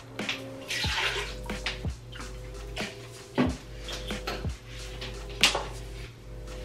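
A cup of water is poured into a pot while making sangria, a close splashing pour with a few clinks of the cup against the pot.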